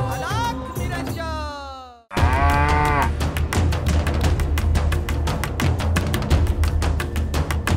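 A cow lets out a drawn-out, wavering moo at the start, then loud, steady background music with a regular beat takes over after a short gap.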